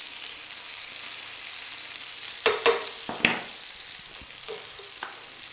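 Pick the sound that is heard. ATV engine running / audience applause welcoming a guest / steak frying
steak frying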